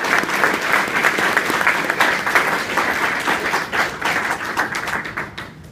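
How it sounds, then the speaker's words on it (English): Audience applause welcoming a speaker to the stage, a loud dense patter of many hands clapping continuously, thinning slightly toward the end. "Give him a round of applause"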